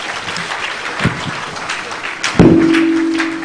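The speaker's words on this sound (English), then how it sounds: "A thunderous round of applause, please, for the chairman of today's occasion." A crowd at a leadership lecture and award event in Abuja applauds, scattered claps building into steady clapping, with a few thuds and a brief sustained tone partway through.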